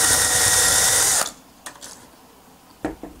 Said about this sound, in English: make sure you have a sharp drill bit so there's no burrs or anything on the edge of the holes